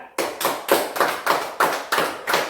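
Kids applaud the first-place winner of a memory game in slow, unison claps, about eight sharp beats evenly spaced and close, with no talking.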